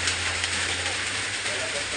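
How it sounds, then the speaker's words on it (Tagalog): Heavy rain on a surface, a dense steady hiss with a low hum beneath, loud and continuous throughout, with a voice speaking over it. "Palakas ng ulan guys."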